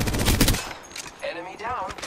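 Automatic weapon fire in the video game Apex Legends: a dense, loud burst of rapid shots at the start that cuts off quickly, followed by a voice speaking over quieter game sounds.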